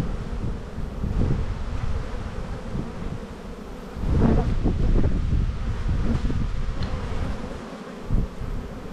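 Honey bees buzz around an opened hive during a spring buildup, a steady insect drone with wind noise and rustling over it, swelling louder at times, close to the microphone.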